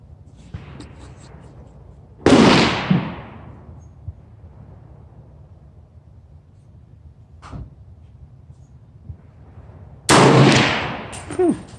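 A 300 Blackout rifle fires two loud, sharp shots roughly eight seconds apart at an outdoor range with targets at 100 yards, each with a short echoing tail and quiet ambience between them.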